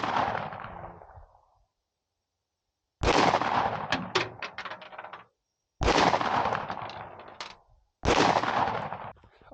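CZ52 pistol fired at a 25-yard target, four sharp loud shots spaced a few seconds apart, each with a ringing decaying echo outdoors and no talk.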